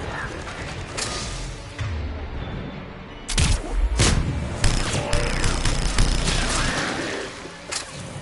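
Gunfire in the video game Mass Effect 3: loud, close bursts of rapid shots and booming impacts mixed with mechanical creaks and clanks, with no talking.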